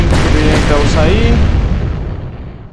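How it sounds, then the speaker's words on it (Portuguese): A loud explosion booms in the horror RPG Maker game Purgatory 2, a dense roaring blast that rumbles and slowly fades away over a few seconds. "Aí vai explodir ele. Beleza, explodimos o bichão."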